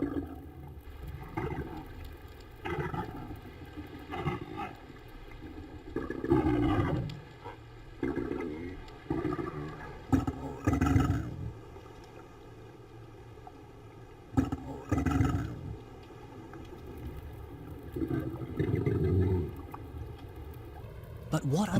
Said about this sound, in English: the minke sounds may be a reproductive call or song